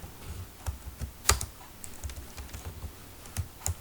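Python code being typed on a computer keyboard: irregular close key clicks and taps at an uneven pace, with a few louder strikes standing out.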